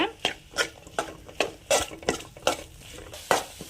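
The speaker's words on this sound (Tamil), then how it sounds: "பாருங்க, மசாலாவோட சேர்ந்து சுண்டல் ஒரு 2 நிமிஷம் நல்லா வதங்கிடுச்சு" Chickpeas sauté with masala in a pan as a spoon scrapes and clatters against the metal in a quick, repeated rhythm over a faint sizzle, close up and without speech.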